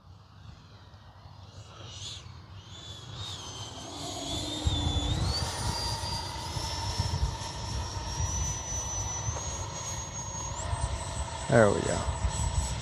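A Freewing F-22 Raptor 80mm RC jet flies over a field. Its ducted-fan whine rises in pitch as it passes and builds into a steady, loud rush, while someone briefly talks over it.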